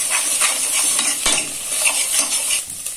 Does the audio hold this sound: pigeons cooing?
no